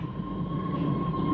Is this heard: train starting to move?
yes